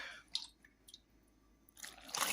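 Liquid poured into dry ingredients for a no-sugar Easter spice bun made with red wine and stout, heard as a few soft, wet drips and squishy splashes, with a fuller sloshing burst at the end.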